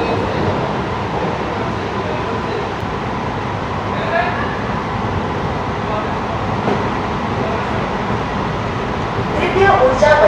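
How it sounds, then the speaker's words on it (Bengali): An AC local train on the Sealdah to Krishnanagar line running at top speed, a loud, steady rumble and rattle of wheels on track heard from inside the carriage, with voices faintly underneath. "টপ স্পিডে চলছে কিন্তু আমাদের ট্রেন"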